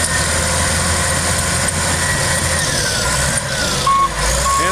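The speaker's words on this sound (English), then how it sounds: "And of course, it's got backup alarm." Backup alarm on a 1995 Caterpillar D6H crawler tractor beeps steadily and repeatedly over the loud, continuous rumble of its idling diesel engine, close by, with no talking.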